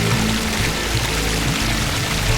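The Ganges emerges as a stream from between cave rocks at Chitrakoot, rushing and splashing in a steady, dense wash of water noise that fills the space without pause.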